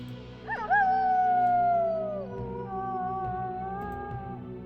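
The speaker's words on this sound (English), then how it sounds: "You have a howl. Why not howl?" Howl ability sound effect from the modded strategy game Eador: Genesis, a single long wavering animal howl that slides downward and fades, clear and alone.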